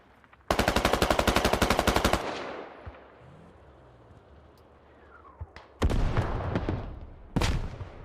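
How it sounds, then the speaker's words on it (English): Rapid bursts of heavy artillery cannon fire from a video game rattle in quick succession, with a low rumbling pause between volleys and distant booms. "I'm hearing more hell cannon shots starting to fall down upon the Americans"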